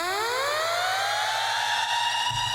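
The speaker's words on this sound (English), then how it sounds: "I added a siren" A loud rising siren tone sweeps steadily upward in pitch, bright and sustained, blended into an electronic music track.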